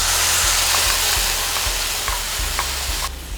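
Tomato puree sizzles and fries as it goes into a hot pan of lightly browned onions and garlic, a loud, steady hiss with faint stirring clicks that drops away abruptly at the end.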